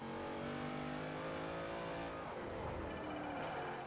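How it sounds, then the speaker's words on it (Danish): A top-tuned Ford Transit van in a video game drifts with its engine revving high and holding a strained, droning note, the pitch sliding and roughening midway as the tyres break loose. "Åh, vi drifter i Ford Transit."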